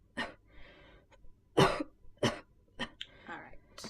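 Someone with a chest infection gives several harsh, separate coughs close by, with short breathy gaps and a few throat-clearing sounds between them.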